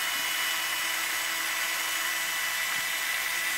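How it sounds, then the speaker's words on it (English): A power drill whines steadily and continuously up close while drilling a pilot hole, a high, even buzzing with no talk over it. "So we're going to start drilling a hole, a pilot hole."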